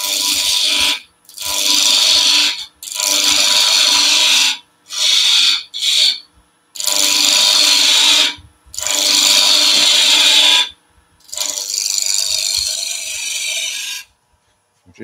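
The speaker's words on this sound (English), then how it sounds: "Now I'm going to angle the skew. And all this is half a V-cut." A skew chisel pares a V-cut into spinning wood on a lathe, loud close rasping cuts in about eight bursts of one to two seconds separated by brief pauses, with no voices.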